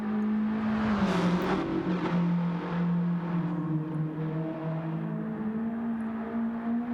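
A Volkswagen Golf GTI engine driving in Gran Turismo 7, a steady droning hum that dips slightly as the pitch shifts and then climbs back up, continuous and without any talk.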